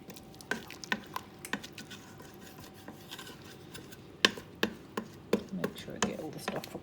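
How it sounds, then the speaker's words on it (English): A pot of butter chicken is stirred, a string of soft scraping and knocking strokes against the pot over a quiet low simmer, the strokes growing quicker and louder toward the end. "So now I'm just going to give this a stir."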